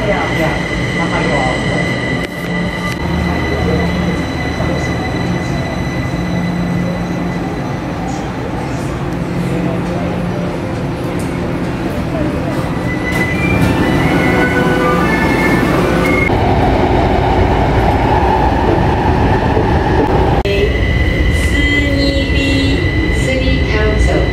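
Riding inside an MRT metro train in Taiwan: a loud, continuous rumble of wheels on rails with whines and squeals as it travels, and voices faintly underneath.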